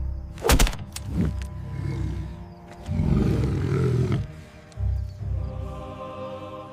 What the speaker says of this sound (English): She roars, a deep, agonizing sound.